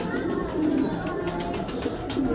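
Sialkoti battery pigeons in good condition coo softly and steadily, a low continuous murmur with no talk over it.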